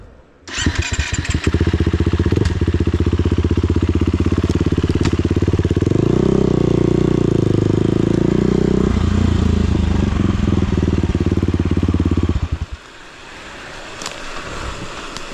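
Enduro motorcycle engine starting up and running loud and close, a steady mid-pitched drone that surges in the middle, then cuts out abruptly near the end, leaving quieter background noise.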